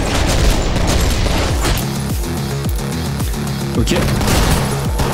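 Gunfire and bursts of impact noise in the top-down shooter OTXO, dense and loud throughout with repeated sharp shots and booming hits layered over a constant game soundtrack; a brief spoken word is heard.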